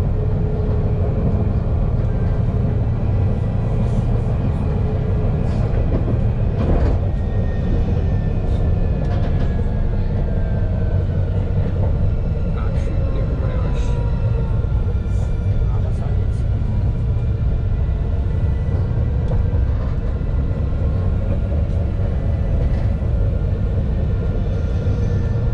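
Onboard a Shanghai Songjiang Tram Line 1 tram in motion, a steady loud rumble and rolling hum with rising motor whine and faint squeals, continuing throughout under a recorded announcement voice.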